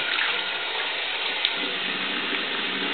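Tap water runs steadily into a sink as a razor is rinsed under it, a close, continuous broadband rush lasting the whole stretch with no talk.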